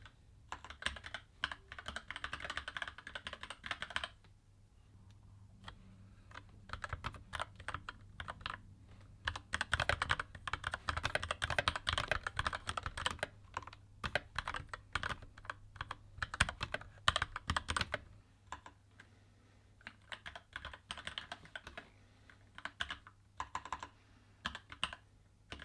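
Steady typing on a Keychron K8 tenkeyless mechanical keyboard fitted with red switches, a dense run of quick clacky keystrokes with brief pauses, close and clear, no voices.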